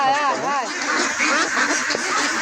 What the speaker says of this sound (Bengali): এই যে ছোট বড় মিলাই হাঁস